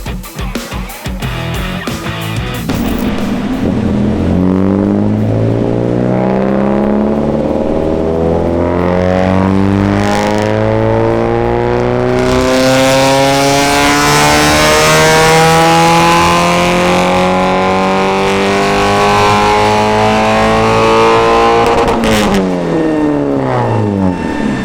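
A Peugeot 405 Mi16 engine revs hard on a dyno, climbing steadily in pitch for a long sustained pull at close range before cutting back, loud and alone.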